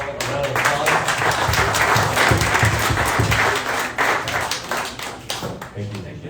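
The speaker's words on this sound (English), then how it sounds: "let's give the panel a round of applause." A conference audience claps for an expert panel at a dental grand opening event, a dense sustained burst of applause lasting several seconds that thins slightly toward the end.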